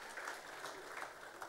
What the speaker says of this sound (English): I request the House to give a big hand of applause to these leaders who have helped in transforming the passport services across the country